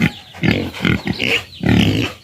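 A boar pig grunts in a run of close, loud snorting bursts with brief pauses between them, heard plainly without talk.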